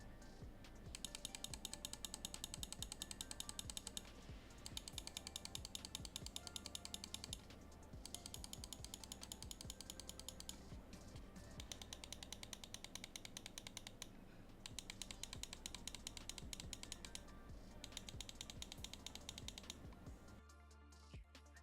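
Rapid bursts of clicks from a Vortex Inno X2 computer mouse, repeated in clusters of sharp, close, dry taps with short pauses between runs, no voices.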